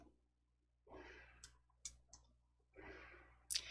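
Computer mouse clicks come sharp and quiet in a still room, a few single clicks spread out between soft breathy rustles, close and alone with no voice.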